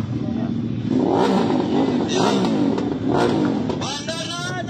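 Motorcycle engines rev in several rising bursts, close and loud, over a constant idling rumble, as riders set off at the start of a 700 km adventure rally in Negros.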